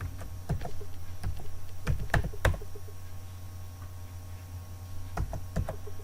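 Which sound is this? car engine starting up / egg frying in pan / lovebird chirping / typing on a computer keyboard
typing on a computer keyboard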